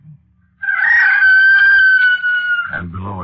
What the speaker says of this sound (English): And below us somewhere a rooster crowed.